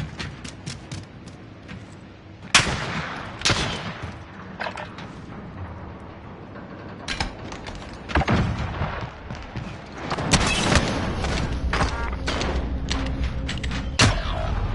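Gunfire from a PS4 shooter game: a whole magazine emptied in scattered bursts of sharp shots with mechanical clatter and thuds, fairly loud over a constant game background, with brief pauses between volleys.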